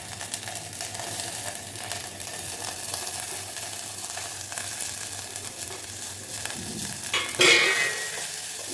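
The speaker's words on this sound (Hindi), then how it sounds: "बटर लेने के बाद जैसे ही बटर गर्म हो, तब ये सब हम सौते करेंगे।" Vegetables sautéing in hot butter for corn soup give a steady close sizzle with stirring scrapes, and a louder burst of crackle near the end.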